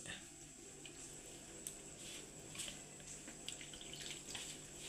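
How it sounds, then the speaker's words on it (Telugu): Water is poured into cauliflower pakoda batter in a home kitchen, a soft, steady trickle and splash that stays faint and close, with a few small clinks throughout. "ఇందులోకి వాటర్ని యాడ్ చేసుకోవాలి"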